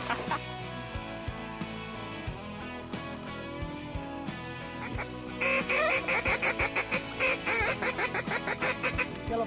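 Geese or other waterfowl honk and call repeatedly during a bird hunt, a dense clamor of overlapping calls that grows louder and more rhythmic in the second half.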